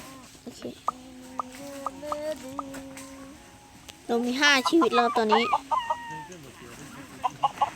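Chickens cluck in short repeated bursts, followed by a loud rooster-like crow, with a person speaking briefly over the game sounds.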